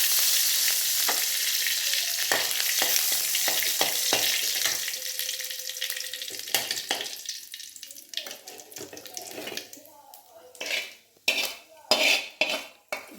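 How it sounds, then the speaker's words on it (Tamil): Mustard seeds and curry leaves sizzle in hot oil for a spicy chutney served with pongal, a steady frying hiss that fades as utensils clink and scrape on the pan toward the end. "கடுகு பொரிச்சிட்டு கருவேப்பிலை,"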